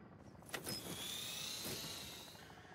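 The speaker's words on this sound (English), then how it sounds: "Enemy helo's going down." An enemy helicopter in the Call of Duty: Modern Warfare III game roars with a sustained mechanical whine and a sweeping tone. A few sharp impacts come near the start.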